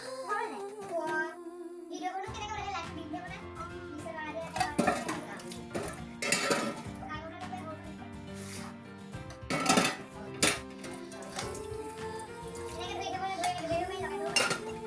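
Dishes, pots and cutlery being washed by hand in a home kitchen, with clinks and clatters of metal and glass rising at intervals over background music and occasional voices.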